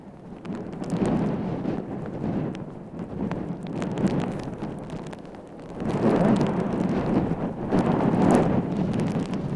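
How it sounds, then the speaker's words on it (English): Wind buffeting a microphone during an outdoor walk through a park in Montana's biggest city, a heavy rumbling roar that swells and eases, loudest in the second half, with faint footsteps beneath. "I'm actually going to be walking back into the wind"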